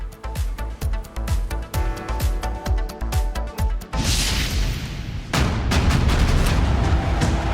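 Gunfire aimed at a car carrying a Haryanvi singer, heard as a fast series of loud sharp bangs in rapid succession, then a burst of heavy, noisy rumble and crackle toward the end.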